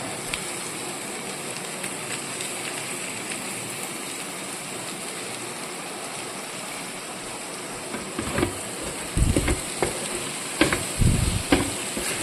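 Chicken curry with pepper powder, garam masala and coriander leaves sizzles and is stirred in a pan, a steady frying hiss with louder scraping stirs toward the end, no talking.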